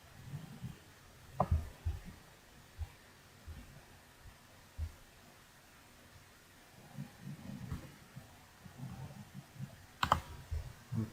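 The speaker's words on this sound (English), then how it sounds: "So I'm just going to type in business." Computer keyboard typing in short irregular bursts of clicks, fairly quiet and close, with pauses between keystrokes and no talking.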